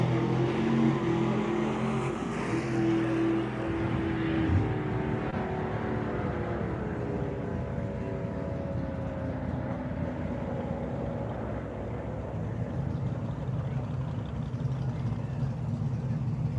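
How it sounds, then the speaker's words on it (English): 1967 Camaro on a solo drag strip run at Tucson Dragway, engine roaring then fading as it pulls away, heard under an announcer's commentary. "As the 67 Camaro rolls up. For the left lane solo."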